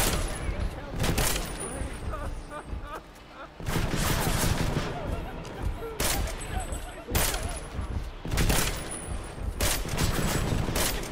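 Heavy battle rifle fire from a fully upgraded weapon in Deus Ex: Mankind Divided, loud repeated bursts of shots separated by short pauses, with someone talking over the gunfire.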